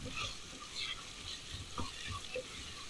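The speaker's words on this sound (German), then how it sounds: "Das Gemüse dazu und alles schön anrösten." Vegetables sauté in hot clarified butter in a pot, giving a steady close sizzle with soft stirring scrapes and small pops throughout, with no voices.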